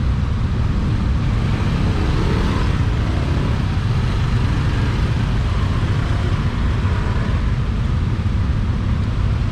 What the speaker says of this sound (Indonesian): pengalaman pertama mereka kena macet di Bali